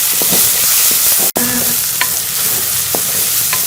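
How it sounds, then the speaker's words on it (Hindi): Steady sizzling of garlic-ginger paste frying with onions in a pan, with occasional scraping and stirring clicks throughout; no talking. "अब इसमें हम ये लहसुन अदरक का पेस्ट शामिल कर लेंगे और इसे भी प्याज के साथ जो है वो हम फ्राई कर लेंगे"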